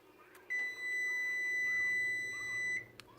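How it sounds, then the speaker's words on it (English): A kitchen timer beeps with a steady, high electronic tone for about two seconds, fairly clear and close in a quiet home kitchen where waffle stick batter is being poured. "Sorry, don't mind my kitchen timer."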